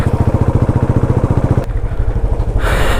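A motorcycle climbs a hill road from Aritar Lake toward Gangtok, its engine thumping in a close, steady pulse before the note drops and changes, then rises again as the ride goes on.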